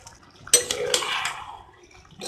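A lid lifts off a pot of mutton biryani with a bright metallic clank, followed by a soft hissing rush of steam that fades over a couple of seconds.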